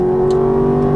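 A Ferrari F430 at a racing circuit pulls hard under throttle, a loud steady engine drone held close and continuous through the short moment.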